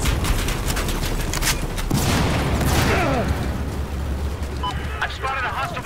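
Two grenades go off in Battlefield 4 gameplay, with broad booming blasts rolling out among scattered gunfire while voices talk over the action.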